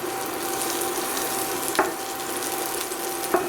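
A Beyond Meat smash burger fries in oil in a pan, a steady close sizzle with a couple of brief sharper crackles and no talking.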